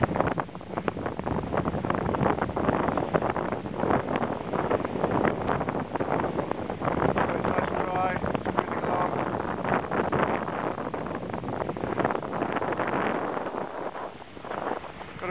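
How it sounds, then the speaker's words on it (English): Steady wind rushing over a SIG 45 sailboat under sail at sea with two reefs in a flat main, around 16 to 17 knots of breeze, a constant loud gusty roar buffeting the microphone. "Nice little breeze on."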